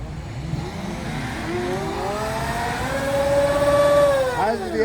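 A stuck car's engine revs hard and steadily, its whining pitch climbing and wavering for several seconds without letting up, loud and close.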